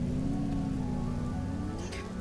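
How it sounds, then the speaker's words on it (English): Acid rain falling in Empyrion: a continuous, dense hiss of rain on surfaces beneath a steady low engine-like drone, with a brief brighter burst near the end and no voices. "the acid rain has stopped"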